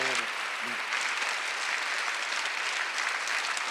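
Loud applause from a church congregation during a Sunday worship service, a dense sustained roar of clapping that fills the room throughout, with a brief voice at the start.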